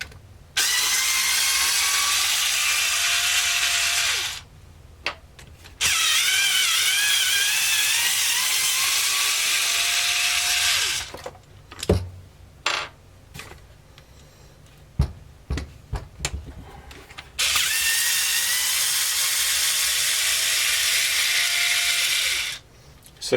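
A Makita power driver whirs and ratchets in long loud bursts while backing out T20 screws to disassemble a Milwaukee 3/4-inch drive impact wrench, with clicking and handling noises between runs.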